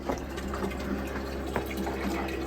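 Water runs steadily into an RV's fresh water tank from a hose during a snowstorm, a continuous rushing, gurgling fill with a low pump-like hum underneath, close and even throughout.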